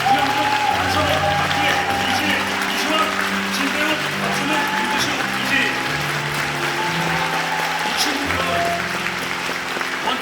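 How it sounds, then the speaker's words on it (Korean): Sustained audience applause fills the theatre at the closing-night curtain call of the musical Geunaldeul (2020), with steady dense clapping and cheering while a band plays underneath throughout. "감사의 박수 부탁드립니다."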